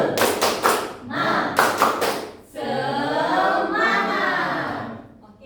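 A classroom of children clapping and tapping in a rhythmic chant, sharp bursts of claps in quick groups, followed by voices chanting together in a sustained, rising call.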